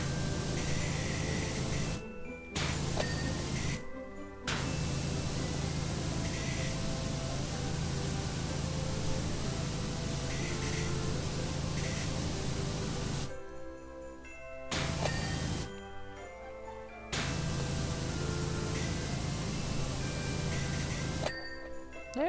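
A pressure washer sprays in the Powerwash Simulator PC game while cleaning Santa's Workshop, a loud steady hiss in long bursts broken by several brief pauses, with no talking.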